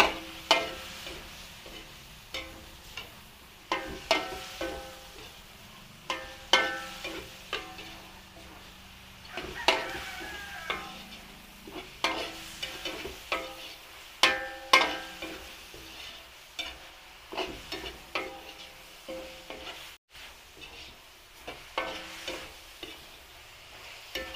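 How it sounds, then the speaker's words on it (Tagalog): Mixed vegetables (cabbage, Baguio beans and carrots) are stir-fried in a pan, with a steady sizzle under repeated scraping and clattering strokes of a spatula tossing the pieces at an irregular, lively rhythm. "Stir fry lang po natin yung gulay."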